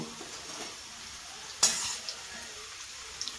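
Onions fry in oil in a wok with a soft, close sizzle. A sharp clatter of a utensil against the pan cuts in midway, and a few small taps follow near the end.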